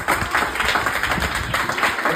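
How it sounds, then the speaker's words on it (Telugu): A church Vacation Bible School audience claps together in a steady, busy patter that fills the whole moment, fairly close and continuous. "క్లాప్స్ కొట్టండి అందరూ."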